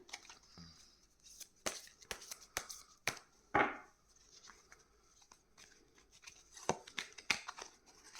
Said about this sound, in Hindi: चलिए, अब आपके लिए गॉडेस गाइडेंस का कार्ड निकाल लेते हैं